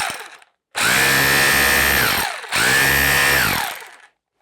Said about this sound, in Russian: Так, режим удара.